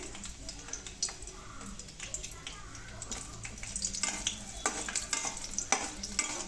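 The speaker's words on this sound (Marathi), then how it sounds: "त्याच्यानंतर 7-8 हिरवी मिरची तळून घ्यायची" Seven or eight green chillies frying in hot oil, a close, moderately quiet crackling sizzle that builds toward the end with scattered sharp pops, while a voice talks faintly now and then.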